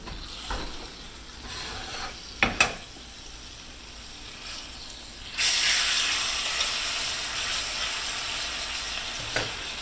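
London broil steak in a hot skillet: a low hiss broken by a couple of sharp metallic clanks, then a loud burst of sizzling that stays strong and crackling until the end.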